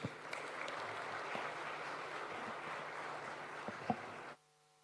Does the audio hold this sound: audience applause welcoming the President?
yes